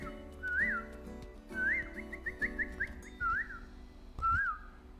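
A voice whistles an imitation of a koel's call, a series of rising, swooping whistled notes repeated in short bursts with brief pauses between, clear and close with no talking.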